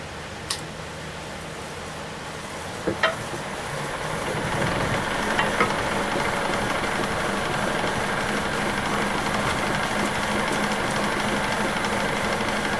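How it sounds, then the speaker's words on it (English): A wood lathe spins cherry wood at 750 RPM, a steady low rumbling whir with faint rhythmic texture, a few small knocks early on, then the sound grows slightly louder and continues evenly, with no voices. "Lathe is running at 750 RPMs."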